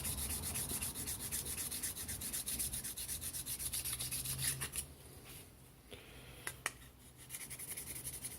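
A finer blade polishes burrs off a steel welding table top with steady, rhythmic rasping strokes up close, then stops for a few scattered scrapes and taps.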